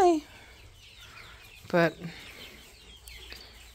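Chickens in a backyard flock give a brief close cluck that rises over low ambient noise, with a short spoken word heard near the start.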